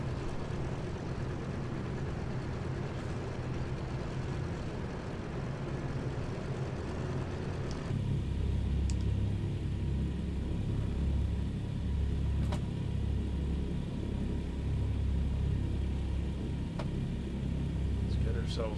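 Douglas DC-3 piston engines in a flight simulator drone in a steady low rumble while taxiing, with a slight shift in tone partway through and brief faint clicks, and no clear talk over it.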